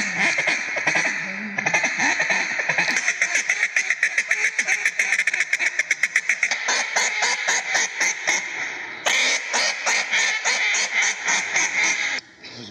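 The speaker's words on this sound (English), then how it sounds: "There's a big wad of ducks back here." A large flock of ducks quacking loudly and almost nonstop during a hunt, close and dense, with rapid overlapping calls that come in bursts and brief breaks.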